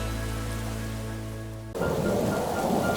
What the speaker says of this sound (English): Peppa looked out the window and saw the rain, water pattering on the roof.